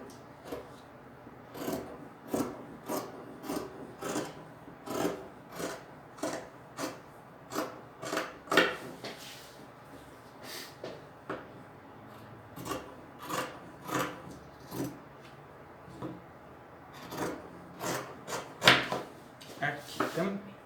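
Scissors cutting the armhole of a test fabric for sewing, a series of short crisp rasping snips repeating at an uneven pace across the whole stretch, close and moderately loud.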